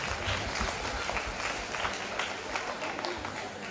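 An audience at a school Navarasa performance claps together in a dense, continuous wash of applause, moderately distant and fairly even throughout.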